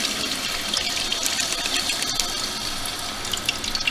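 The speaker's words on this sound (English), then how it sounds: "So I'm going to turn the water on now," A toilet tank refills after a new fill valve has been fitted, with a steady hiss of water pouring in at close range and no talking throughout.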